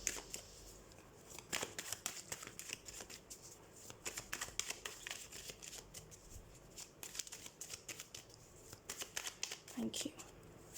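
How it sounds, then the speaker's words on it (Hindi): Tarot cards being shuffled by hand for a reading, soft rapid riffling and flicking in repeated bursts, quiet and close, with someone speaking over it. "तो सबसे पहले हम कार्ड शफल कर लेते हैं"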